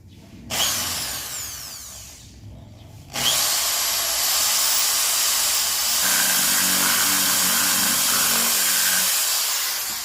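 Electric drill boring a hole during a PIAA loud horn install on a Yamaha Sniper 155 motorcycle, starting with a short burst, pausing, then running steadily and loud for the rest of the clip with no talk.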